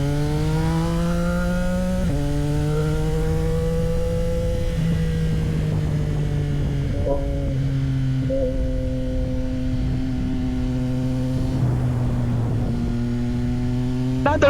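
A sports motorcycle engine revs while being ridden, its tone rising and falling through several gear changes in a steady, close, loud drone with no talking.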